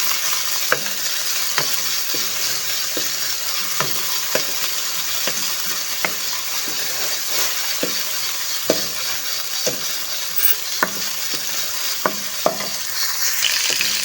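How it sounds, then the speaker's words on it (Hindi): Chicken frying in a pan for chicken chana daal, a steady loud sizzle with regular scraping stirs from a utensil, close and continuous, with no voices. "अब हम चिकन को अच्छे से फ्राई करेंगे।"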